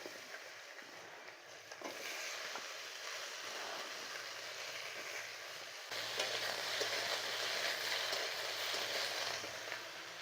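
Winter melon pieces fry in ghee with torn bay leaves, a soft steady sizzle that jumps to a louder, fuller crackle partway through as more fries in the pan, heard close with no voices.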